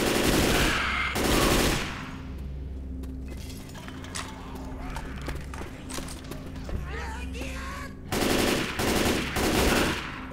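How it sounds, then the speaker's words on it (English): Rapid automatic gunfire in the zombie shooter game Left 4 Dead 2, loud bursts at the start and end with steadier crackling shots between, while players talk over it. "Quit shooting me."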